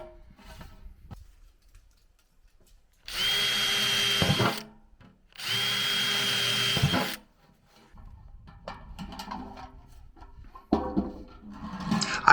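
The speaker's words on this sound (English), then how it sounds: "Now I'm going to drill the hole that'll go on the other side of the zip tie." A power drill bores holes through a plant pot while a porch plant stand is refurbished, giving two loud sustained whirring bursts of about one and a half seconds each, then quieter handling and clatter.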